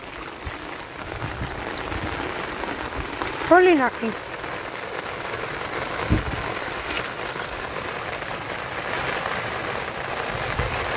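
Heavy monsoon downpour in a Gujarati village after about 15 inches of rainfall: a steady, broad hiss of rain on surfaces throughout, with someone speaking over it.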